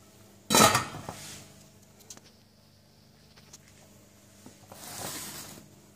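Stainless steel cookware from a five-piece Egyptian-made set, including a 24 cm pot, clanks and rattles as it is handled: a loud metallic clatter at the start, a few soft knocks, then another burst of clinking near the end.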